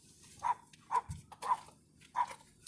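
A small dog barking in a residential neighbourhood, four short sharp yaps evenly spaced, moderately close, with a faint low thump between them.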